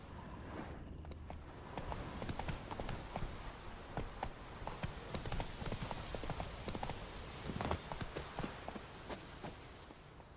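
The horse Roach in The Witcher 3 moving at a trot, with steady, evenly paced hoofbeats clip-clopping close by over a soft background wash.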